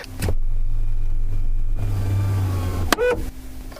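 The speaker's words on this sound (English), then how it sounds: "What was that? That's the sunroof." An electric car sunroof motor hums steadily inside a car, a low mechanical whir that runs for a couple of seconds and ends with a soft clunk.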